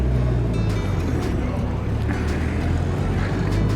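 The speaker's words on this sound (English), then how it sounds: "We're just driving down the main drag here in Grand Lake" A German Amphicar 770 amphibious car drives along a main street in a lakeside mountain town, its engine a steady, loud, close drone with wind and road noise and a few brief clicks over the top.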